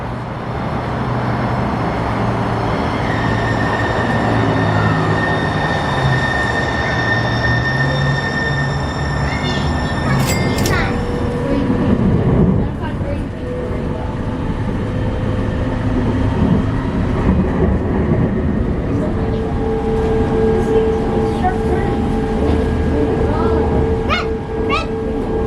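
A light-rail train pulling into a Seattle station, a loud rumbling approach with brief high wheel squeals and tonal hums, a chime near the middle, and a voice speaking over the noise.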